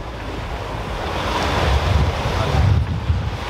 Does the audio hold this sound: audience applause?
no